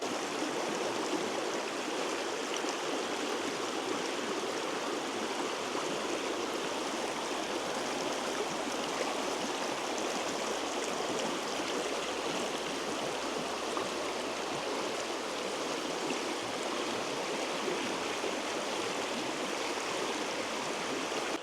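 A cold New Zealand creek rushes steadily and continuously over stones in a frosty landscape, a dense, even wash of water noise heard close up.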